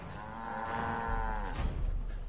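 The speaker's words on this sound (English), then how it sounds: "the cow's gone mad!" A single long, low moo from cattle in the video game Far Cry 5 swells and then tails off. Game background noise sits underneath, and no one speaks.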